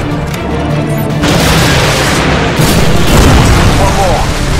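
Missile blast in Call of Duty: Modern Warfare Special Ops, a loud sustained roar of explosion and debris lasting several seconds, dense and close, building in a second surge partway through.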